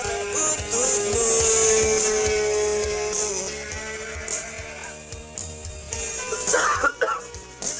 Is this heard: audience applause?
no